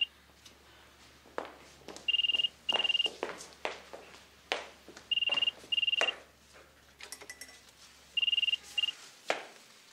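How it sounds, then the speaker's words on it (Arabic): A telephone rings indoors in three distinct bursts, each a quick pair of bright electronic trills spaced a few seconds apart, with soft room noises and shuffling between the rings. "لا ما حدا يرد على التليفون."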